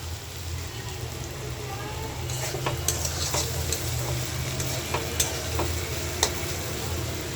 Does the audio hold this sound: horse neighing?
no